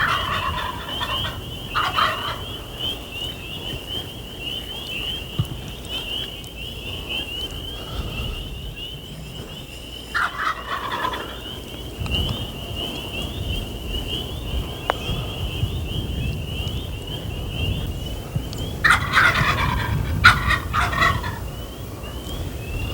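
Wild turkeys gobble during a spring hunt, with several distant rattling gobble bursts spread across the stretch. A steady high-pitched insect or bird drone and light wind noise sit underneath.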